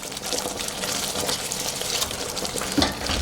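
Hot water is poured into a cooking pot of spicy curry duck with potato and masala, a gushing, hissing splash that runs steadily for a few seconds, with some sizzling underneath.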